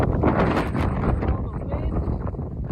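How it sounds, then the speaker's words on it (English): Wind gusts across a mountainside on the Appalachian Trail, buffeting the microphone with loud, broad rushing noise while a person speaks over it. "the wind."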